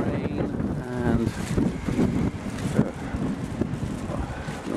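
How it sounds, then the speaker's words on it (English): Strong wind buffeting the microphone in a continuous, gusty roar, with a voice speaking faintly underneath. "it's very windy at the moment"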